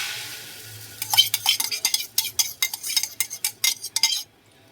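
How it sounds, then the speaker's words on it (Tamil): Beaten egg is spread across an oiled dosa pan with a utensil, giving a quick run of close, crisp scraping strokes and light clinks that stop abruptly. "நம்ம முட்டையை ஊற்றிக்கலாம்."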